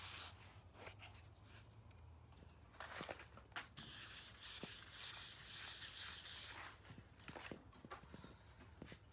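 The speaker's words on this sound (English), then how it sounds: "on the left side of the hood, I'll be rubbing on some dry guide coat" Quiet dry rubbing and scuffing as Duragold dry guide coat powder is rubbed onto a car hood, with soft swishing strokes and scattered light taps, close to the microphone.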